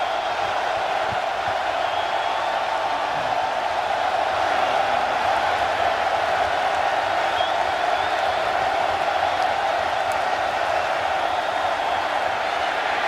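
A hostile stadium crowd at a Kentucky–Missouri college football game in Lexington roars as a steady, distant wash of noise that holds evenly throughout.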